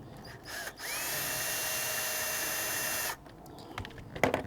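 A power driver spins while removing a hose clamp on a Honda Civic Si intake during a cold air intake install. One close, continuous whirring run lasts about two seconds, followed by faint clicks and handling taps.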